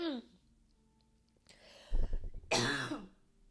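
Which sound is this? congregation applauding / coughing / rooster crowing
coughing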